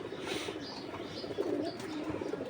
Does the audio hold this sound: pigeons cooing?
yes